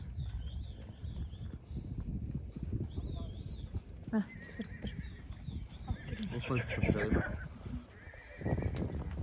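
Horses whinny and snort nearby among hoof clops and scuffling during horse lassoing, while people talk over the animal sounds.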